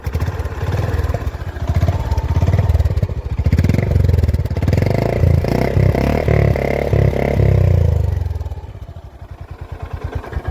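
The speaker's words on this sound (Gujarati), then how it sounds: "હવે આપણે બાઇકને જે છે એન્જિન થોડુંક રેવ કરીએ." A new motorcycle's engine close by, revving up and holding a loud throaty roar through the exhaust, then dropping back to a quick steady idle putter.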